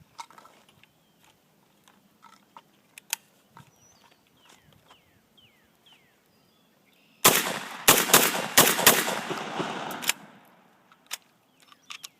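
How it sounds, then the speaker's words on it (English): A converted Saiga 12 shotgun firing cheap Federal 7.5 birdshot from its magazine: a rapid string of about eight loud blasts in roughly three seconds, with scattered clicks and handling noises of the gun before and after. "going to put a few rounds through it now"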